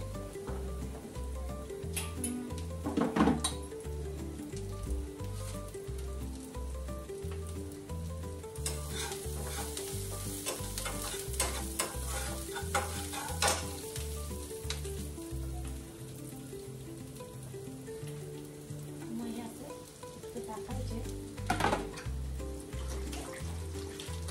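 Mustard seeds sizzle and crackle in hot oil, a steady frying hiss with scattered popping bursts and a low rhythmic background hum, heard alone without any talk throughout.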